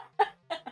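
A person mimics their dad's morning cough with three short, raspy vocal bursts separated by brief pauses, close and clear over a faint steady hum.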